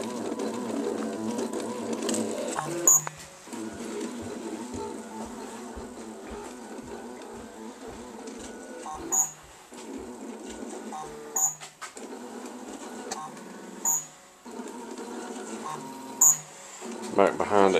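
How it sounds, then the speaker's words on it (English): A homemade wooden 3D printer, the Mark 1, runs with its Z-axis motors turning, giving a whirring, buzzing stepper drone. The buzzing pauses and restarts several times, punctuated by sharp clicks and shifts in pitch. "Anyway, that's it, the 3D printer."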